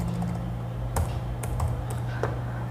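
Keystrokes on a computer keyboard while entering an inventory list into an Excel spreadsheet, a steady run of close, light clicks with a few louder taps, no talking.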